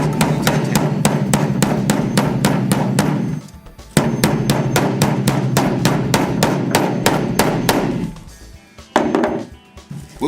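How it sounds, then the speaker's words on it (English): A hammer beats down the ears of a Band-It clamp buckle in quick, evenly spaced metallic blows, dozens in a row, broken by two brief pauses before the striking resumes. "we're going to hammer down the ears of the buckle to complete the tap."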